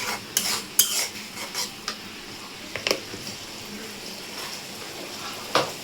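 Spices frying in a pan for prawn malai curry, stirred with a metal spoon that gives sharp scraping clinks against the pan in irregular bursts over a faint background sizzle, close by, with no talk.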